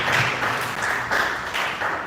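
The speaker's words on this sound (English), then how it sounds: "Give a round of applause for him." An audience at a mental health awareness foundation's live event claps together in a steady, dense wash of applause that holds fairly level for about two seconds.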